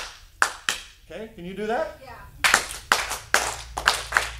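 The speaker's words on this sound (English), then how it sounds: "When I do the clapping, you need to go." Sharp, loud hand claps ring out in a room, two early and then a series of about six evenly spaced claps after a brief spoken question.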